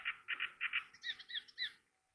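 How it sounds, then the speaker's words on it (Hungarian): A reed warbler sings from low in the reeds by a lake, a quick series of scratchy, chattering phrases, fairly faint and close, with brief pauses between notes. "van nagyon érdekes és szép hangú kis Nádi madárka"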